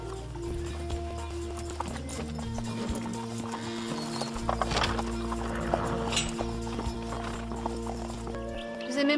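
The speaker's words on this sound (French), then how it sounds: "Vous aimez monter à cheval, ça se voit." A horse being ridden, its hooves clip-clopping in a steady rhythm over a dense layer of background music, with a brief whinny partway through.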